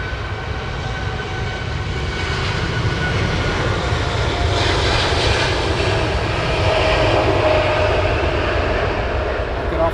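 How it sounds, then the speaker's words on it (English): A British Airways jet airliner at London Heathrow produces a loud, sustained engine roar that swells slightly toward the end, with a voice faintly present beneath the noise. "Looks like the British Airways is nipping in front of the cargo."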